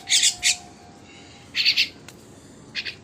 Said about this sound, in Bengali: কাদের শালকি পাখি